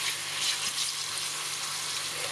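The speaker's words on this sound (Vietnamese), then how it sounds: "rồi cho thịt vô chiên" Pork slices frying in hot oil in a pan, a steady, close, continuous sizzle and crackle with no talking.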